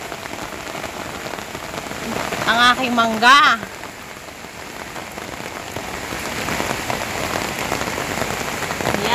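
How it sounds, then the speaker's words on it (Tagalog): Steady heavy afternoon rain pours down on a surface in Pampanga, Philippines, a dense hiss, with a brief spoken phrase partway through. "Ayan, ang lakas ng ulan."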